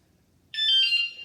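A Wsdcam 113dB wireless vibration motion-sensor bike alarm lets out a single loud, shrill electronic beep that holds for under a second after a quiet lead-in, then fades.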